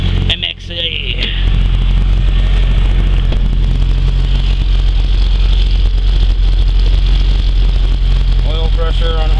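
A 400hp race-built Honda Civic, still on race gas, idles loudly and steadily right up close after its first start-up of the season, a constant throbbing drone that stays even throughout.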